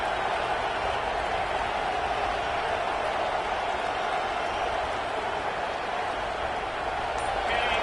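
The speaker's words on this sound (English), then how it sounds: "It's early, but this crowd is fired up. Listen to this noise here." A packed college football stadium crowd roars early in a Florida game, a steady, dense wall of cheering noise that holds at full volume without a break.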